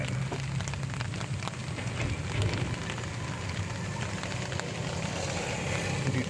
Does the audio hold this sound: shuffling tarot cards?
no